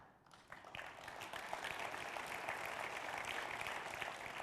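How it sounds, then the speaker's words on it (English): An audience at an annual business meeting breaks into applause, the clapping swelling within the first half second into a dense, steady patter of many hands that continues without talk over it. "That was applause."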